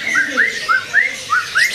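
A farm-bred straw-headed bulbul (cucak rowo) sings at a bird market, a series of clear rising whistled notes repeated about every third of a second, close and loud over faint background murmur.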